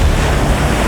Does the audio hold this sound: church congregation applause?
no